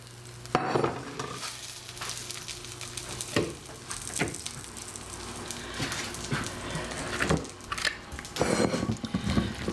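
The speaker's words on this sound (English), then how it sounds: "Now I'm adding my vegetables to my tortellini." Vegetables tumble into a pan of tortellini and are stirred, with scraping, clattering spoon strokes over a steady sizzle, close and fairly loud, repeating in irregular bursts.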